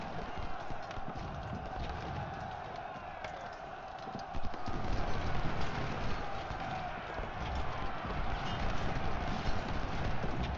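Cavalry horses moving across a battlefield in the Ultimate General Civil War strategy game, a steady muffled clatter of hooves under dense continuous battle noise, growing somewhat louder midway through.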